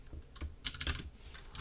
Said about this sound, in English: I can move around with the arrow keys and start typing things like blah, blah, blah.